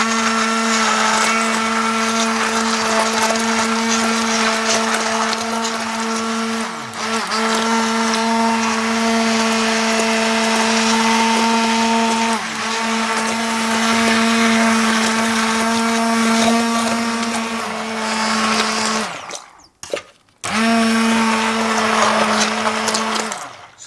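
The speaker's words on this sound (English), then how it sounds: "you just want to blend it using a hand blender" A hand blender pureeing cooled mushroom and asparagus soup, a loud steady motor whine held close for about twenty seconds, briefly cutting out and then starting up again near the end, with no talking.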